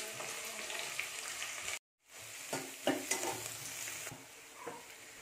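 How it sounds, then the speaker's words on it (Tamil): Onions frying in hot oil for chicken gravy, a close crackling sizzle with occasional stirring scrapes and one short gap. "வெங்காயம் போட்டுட்டு நல்லா ஃப்ரை ஆகணும்."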